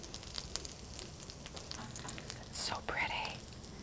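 A grilled cheese sandwich frying slowly in a pan over low heat gives a faint, soft, steady sizzle with small crackles and pops. A brief brighter hiss rises near the end.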